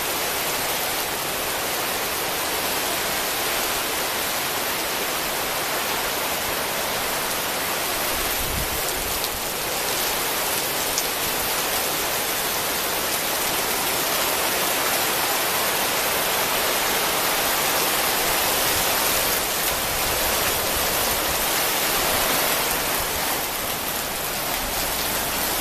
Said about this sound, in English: right now it's a heavy rain, it's a heavy downpour